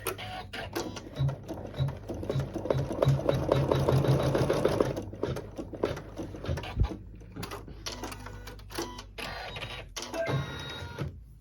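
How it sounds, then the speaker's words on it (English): A slowed embroidery sewing machine stitches a quick tack-down for a Christmas decoration, making a close, rhythmic whirring hum with rapid needle ticks that speed up and pause, and no one speaks. "I've got my machine slowed down so that I don't run over my fingers."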